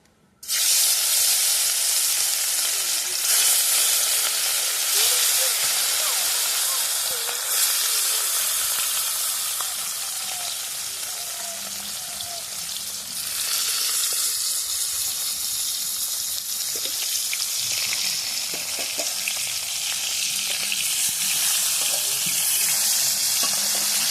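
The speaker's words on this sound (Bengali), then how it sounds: "তেল গরম হয়ে গেছে, তো আমি মাছগুলো এবার এক এক করে ভেজে নেব।" Shol fish (snakehead) slide one by one into hot oil, raising a loud, close, continuous hiss and spatter that barely dips over about twenty-four seconds.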